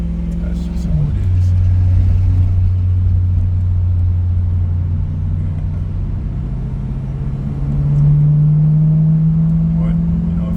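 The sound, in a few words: straight-piped BMW E92 M3 with DCT driving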